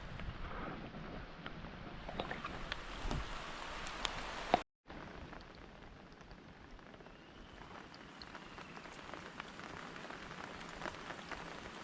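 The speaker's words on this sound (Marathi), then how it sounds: "आणि पाऊस बघा पाऊस पाऊस मध्ये भरपूर पाऊस आहे" Rain hisses down steadily on surfaces near a flooded river with scattered drops and patters, fairly quiet overall, interrupted by a brief gap of silence.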